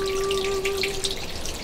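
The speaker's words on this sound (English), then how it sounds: "when you hear the water slowly eating the stones away" Water running over stones in a stream, a soft continuous trickle with a faint steady tone beneath, close and gentle without any voices.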